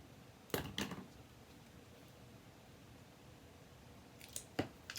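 Scissors cutting lace for a handmade card give a few quiet, close snips in two short bursts over faint background hiss, with no talking.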